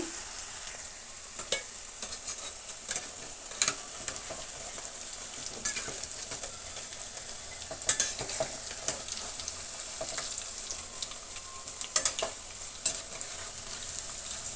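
Onion pakoda fry in hot oil with a constant bright sizzle, broken by occasional scraping clicks as the fritters are turned with a utensil.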